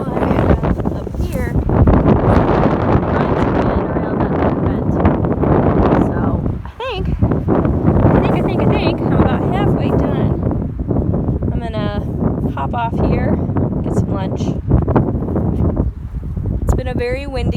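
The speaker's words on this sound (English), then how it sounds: "very windy day" Strong wind buffets the microphone in heavy, roaring gusts almost continuously, with a voice speaking intermittently beneath the rumble.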